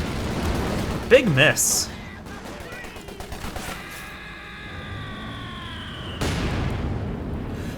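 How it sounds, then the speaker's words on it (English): Panzerwerfer rocket barrage explosions in Company of Heroes 2: a short cluster of sharp blasts and crackling impacts, then a heavier rumbling burst, all under a commentator's steady talk. "Panzerwerfer barrage."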